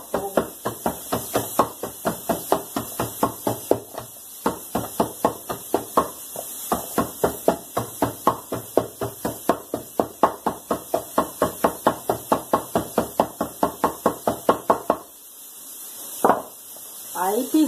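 Steady rhythmic pounding of garlic cloves with salt in a kitchen mortar, dozens of sharp even thuds close up, pausing briefly near the end, with a pot of beans cooking nearby.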